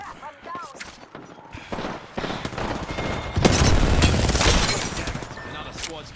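Rapid bursts of gunfire and impacts from a battle in Apex Legends build into dense overlapping fire and explosions, loud and close, with voices talking over the action.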